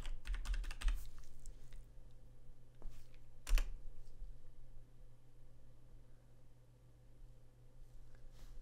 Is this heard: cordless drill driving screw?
no